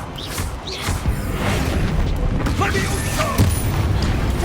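An Incendio fire spell is cast in the Hogwarts Legacy game, erupting as a loud whooshing, crackling blast with booming low rumble that fills the moment, with a voice speaking over it.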